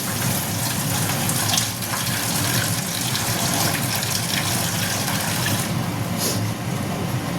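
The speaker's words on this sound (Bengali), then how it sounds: "কিন্তু আমার আর একটু জল দিতে হবে" Water poured into a pot of boiled pea lentil dal, a steady rushing splash that continues throughout, loud and close.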